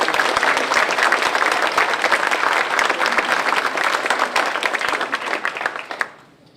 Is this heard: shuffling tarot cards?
no